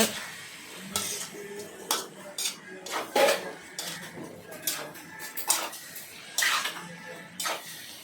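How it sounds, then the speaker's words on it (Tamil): A ladle stirs an okra stir-fry in a pan, making repeated close metallic clanks and scrapes against the pan at an uneven rhythm. "மறுபடியும் கரண்டியில் நல்லா கிளறி விட்டுட்ருக்காங்க"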